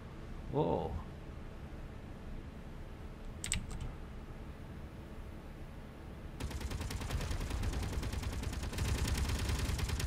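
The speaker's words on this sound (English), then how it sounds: "We can see our guns in action again." Guns firing at a meteorite in the video game Space Engineers, a dense rapid chatter of automatic fire that starts midway and continues steadily at moderate loudness, with faint clicks earlier.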